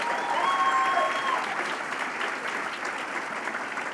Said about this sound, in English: I want to give another round of applause to these 5 wonderful people who started our